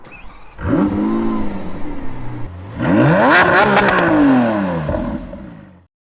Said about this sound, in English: pull the gear selector back to go into drive, and that has automatically disengaged the parking brake, so I can kind of roll forward here